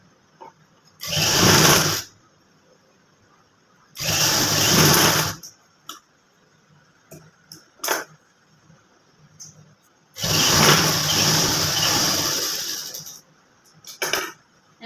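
A sewing machine stitches cloth for a shirt in loud, close bursts, three long runs separated by pauses with brief short stitches and small handling noises between them.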